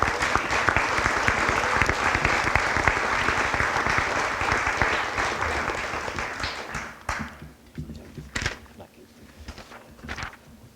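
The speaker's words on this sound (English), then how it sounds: "give a big warm round of applause for Steve Davis of the Potosi Trojans" A large audience at a spring sports awards ceremony applauds for coach Steve Davis of the Potosi Trojans, with steady loud clapping for about seven seconds that then dies away into a few isolated claps and room noise.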